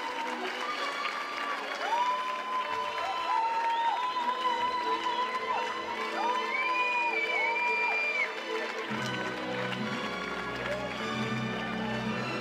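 A crowd at a lead climbing final in Villars, 2023, applauds and cheers loudly and steadily for the winner, with a commentator talking over the noise and music joining near the end.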